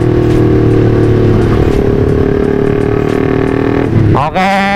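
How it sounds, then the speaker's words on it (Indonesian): Honda CB150R motorcycle fitted with a racing exhaust, held at a loud steady rev before the throttle drops and snaps back up sharply near the end, close and alone. "Kalau new CB cuma ganti knalpot racing pasti udah nyeni pol"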